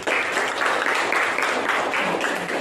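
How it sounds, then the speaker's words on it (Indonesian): Students applaud in a classroom, loud continuous clapping from a group that holds steady throughout with a slight rhythmic pulsing and no talking over it. "Kita beri aplaus lagi"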